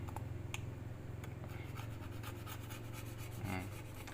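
A hand tool scrapes the sharp edge of a phone's LCD frame in quick, rhythmic strokes. The rasping is close but quiet, over a steady low hum.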